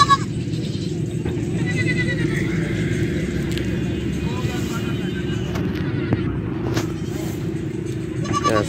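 Beetal goats at the Faisalabad livestock market, a faint bleat or two rising over steady crowd murmur and wind, with people talking nearby.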